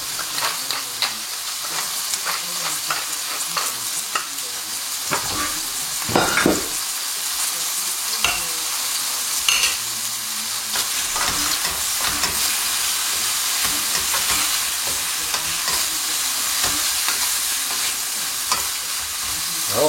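Veal kidney sautéing gently in a pan, a loud steady sizzle and hiss throughout with occasional scrapes and stirring knocks, no voices over it.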